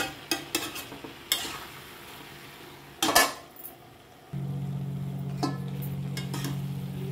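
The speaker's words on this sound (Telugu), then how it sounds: "ఇది మూత పెట్టి వేగనివ్వాలండి కాసేపు." Radish, cauliflower and capsicum curry frying in a covered pan, opening with a few sharp clinks of utensils against the pan and a scraping stir, then settling into a steady, even sizzle.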